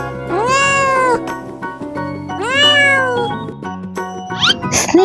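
A domestic cat meows twice, each a loud, drawn-out, wavering cry about a second long, with a brief squeaky sound at the end; no speech.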